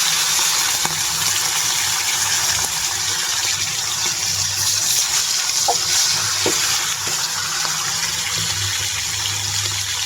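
Koi fish drop into hot cooking oil and set off a loud, continuous hissing sizzle that holds steady for the whole stretch over a low background hum.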